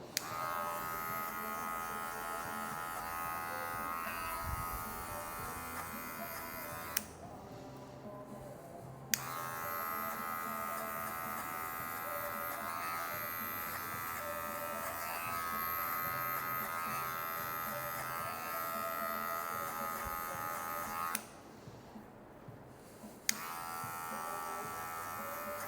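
An electric hair clipper fitted with a guard buzzes steadily while cutting a mid fade, a close, even hum that cuts out twice for a couple of seconds and then resumes.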